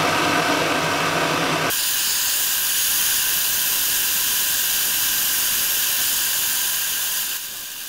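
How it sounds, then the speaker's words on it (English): A torch anneals a glass ring seal with a loud, continuous roaring hiss close by, its tone shifting after the first couple of seconds and then holding steady to the end. "So now what I'm going to do is give it a torch anneal."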